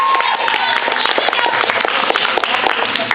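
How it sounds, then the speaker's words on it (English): Children's sermon congregation giving God a round of applause: dense, steady clapping from a roomful of people that holds at an even level throughout, with no voices standing out. "Let's give God a round of applause"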